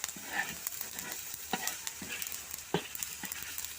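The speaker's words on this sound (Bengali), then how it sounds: "আবার ঢাকনাটা উঠিয়ে নেড়ে চেড়ে দিলাম।" Spinach and potatoes frying in a covered pan, being stirred after the lid comes off, with a faint, soft sizzle and scattered light scrapes and taps of a utensil, fairly quiet and close.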